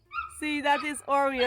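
A dog yips and whimpers in short excited bursts close by, mixed under a person talking.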